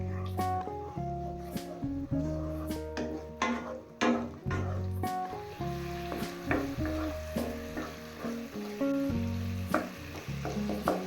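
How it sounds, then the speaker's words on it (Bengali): Chopped tomato fries with spices in oil for tel koi curry, a continuous close sizzle broken by sharp scrapes and knocks of a spoon stirring the pan, all under background music. "টমেটো মশলার সাথে মিশিয়ে নরম করে নেব।"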